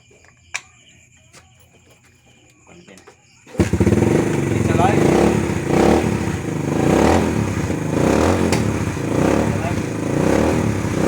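Motorcycle engine catching after carburetor repair, then running loud and close with repeated throttle revs, following a few seconds of quiet clicks and faint workshop noise.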